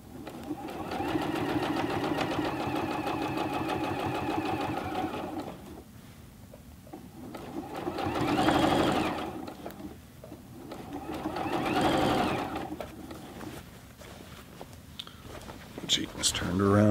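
A Juki G210 sewing machine stitches a denim jeans leg hem in rhythmic mechanical runs, pausing and resuming around the side seam, with a person talking over parts of it.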